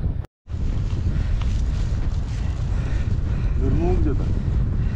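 Strong, cold wind on a snowy winter trail race buffets and roars across the microphone in a low, steady rumble, with a brief muffled voice under the gusts.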